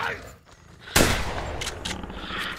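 A single loud shotgun blast from The Hunter Primal dinosaur survival game cracks out sharply after a quiet moment, followed by rumbling echo and faint game noise.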